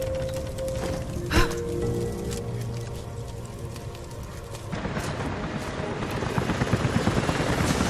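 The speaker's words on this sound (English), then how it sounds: "helicopters are headed your way." Helicopter rotor noise in the video game Rise of the Tomb Raider builds steadily beneath a dense, rumbling wash of sound, with a brief loud thump early on and the roar growing stronger later.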